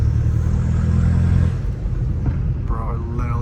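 Straight-piped BMW M5 Competition exhaust rumbling loud and deep, a heavy rev fading after a second and a half into lower idle burble, with faint voices toward the end.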